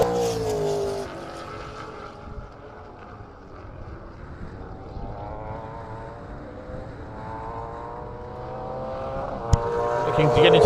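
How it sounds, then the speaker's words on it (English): A Corvette V8 Supercar roars past in a race heat, its engine note rising as it approaches and then drawing away, loud and sustained, with crowd and circuit noise around it. "Here comes the Corvette."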